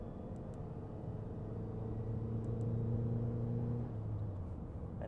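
A Honda Accord engine revs at 25% throttle, a steady loud low rumble whose tone climbs, holds, then eases off, heard close with no talking.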